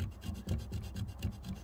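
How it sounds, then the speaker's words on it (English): Sandpaper rubs back and forth over a piece of wood to remove excess bits, a steady rasping scrape in short repeated strokes, close and fairly quiet with no voices. "Sand any excess bits off."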